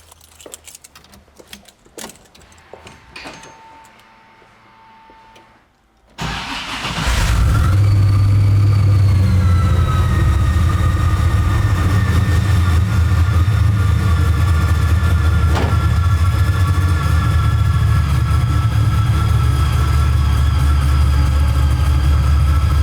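Supercharged 1000 HP V8 in a 1969 Chevrolet Chevelle: after a few quiet rattles, the engine cranks and fires with a sudden loud bark, then settles into a heavy, rumbling, continuous idle, very close and loud.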